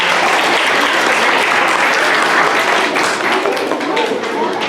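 Loud, sustained applause from a school awards audience as students leave the stage, a dense roar of clapping with crowd noise that eases slightly near the end.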